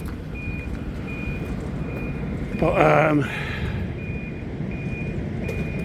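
A truck's reversing beeper sounds in a slow, steady series of high tones over rumbling traffic noise; a person briefly speaks partway through.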